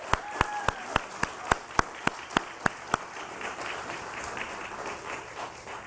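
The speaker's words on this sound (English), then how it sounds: "Let's give a round of applause." Applause at a Nasdaq Stock Market closing bell ceremony, with loud, evenly spaced sharp claps up front over a dense background of quieter clapping and crowd murmur that continues after the claps stop.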